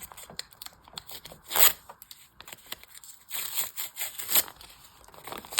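Quiet, close rustling and crinkling as a small paper surprise packet is torn open, with a few sharper rips between softer handling sounds.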